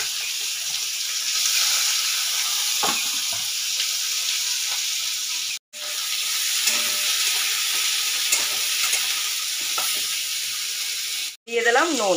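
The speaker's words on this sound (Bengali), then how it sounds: "দিয়ে দিলাম কেটে রাখা 2টো পেঁয়াজ।" Two sliced onions sizzle in hot oil over a tempering of dried chilli and nigella seeds, a steady close frying hiss with occasional stirring clicks, continuing for several seconds.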